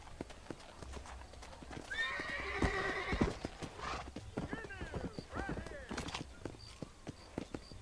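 Horse hooves clip-clop steadily while riding in the Western video game Red Dead Redemption, with a horse whinnying partway through; voices talk over the hoofbeats.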